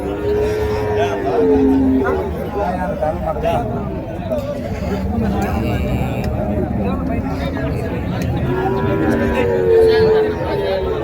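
Cattle low and moo amid a busy crowd at the Uthangarai cattle market, with chatter and hubbub filling the background throughout.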